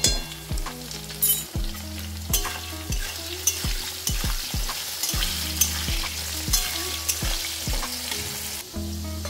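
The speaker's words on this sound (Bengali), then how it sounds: "আলুগুলো লাল লাল করে ভাজা হয়ে গেছে" Potatoes frying in oil for jhinge aloo posto sizzle loudly and continuously up close, while repeated sharp knocks and scrapes of a utensil stirring against the pan punctuate the hiss, with no talking.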